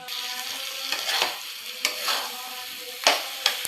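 Onions and potatoes sautéing in ghee with whole dried chillies, cumin and garam masala, an even close sizzle broken by several sharp scraping stirs of a spatula against the pan, no speech.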